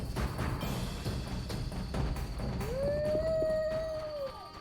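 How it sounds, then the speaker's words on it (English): A dog lets out a single long, rising then level howl in The Witcher video game, starting partway through over a busy background of game ambience and thumps, fairly prominent and sustained for nearly two seconds. "how do these people all have so many dogs?"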